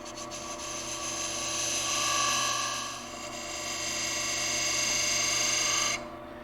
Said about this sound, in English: I'm also lining the parting tool up with the bed of the lathe.